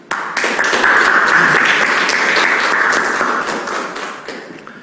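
Church congregation applauding during a Sunday house-church worship service, a dense, steady wash of many hands clapping that swells quickly, holds strong for several seconds, then gradually thins and fades.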